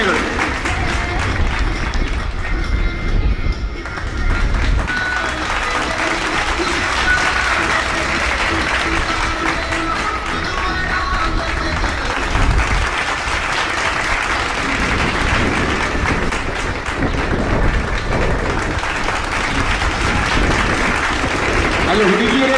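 Sustained crowd applause and cheering at a school sports day after a girls' 100 metre race, loud and continuous across the whole stretch, with voices mixed into the noisy outdoor bustle.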